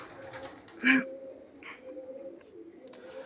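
A single soft pigeon coo stands out near the start against a quiet, faintly noisy background, followed by a few fainter bird sounds.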